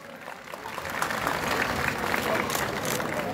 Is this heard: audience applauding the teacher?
yes